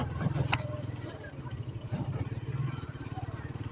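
A Suzuki GSX-R motorcycle rolls slowly along a village road, its low engine hum steady and close, with a faint horn-like beep and background voices mixed in.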